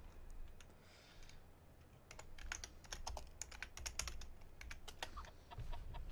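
Rapid clicking keystrokes on a computer keyboard as a cheat code is typed in a game, a quick irregular burst of close taps after a quiet start, with faint game clucking in the background.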